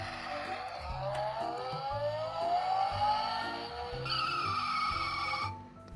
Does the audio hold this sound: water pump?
no